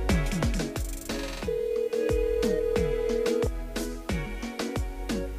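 A telephone rings repeatedly during a French-language radio call-in show. The tones sound loud and steady over music, with a bright sustained tone partway through and no talking over them.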